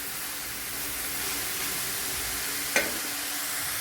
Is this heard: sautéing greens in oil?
yes